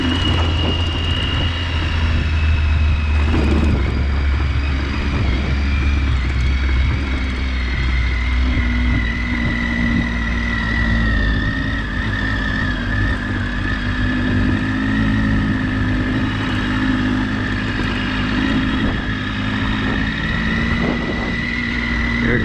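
A motorcycle engine lugs uphill in second gear at low revs, a loud, close, steady drone with wind rumble that holds throughout, with no talk.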